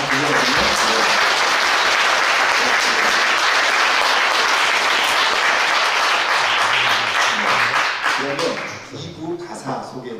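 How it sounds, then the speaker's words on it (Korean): Sustained audience applause at a traditional Korean vocal music concert of gagok, gasa and sijo, dense and loud for about eight seconds before tapering off, with a voice speaking as the clapping fades. "여러분 다시 한번 네 분께 박수 한번 주십시오"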